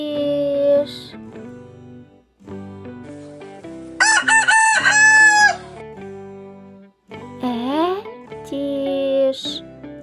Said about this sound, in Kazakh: Etiş